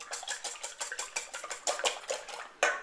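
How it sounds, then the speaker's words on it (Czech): Eggs are beaten in a bowl with a utensil for homemade punch cake slices, a quick run of light, bright clinks and taps against the bowl in an uneven, brisk rhythm, ending with a sharper knock. "vezmu takovou mísu, do toho dám ty vejce a zamíchám je"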